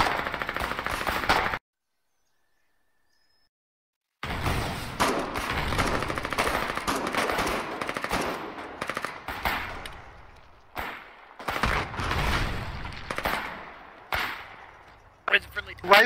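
Machine-gun and rifle fire rattle in dense, continuous bursts during trench fighting in the war game Foxhole, broken by one abrupt silent gap, with a voice heard over the gunfire.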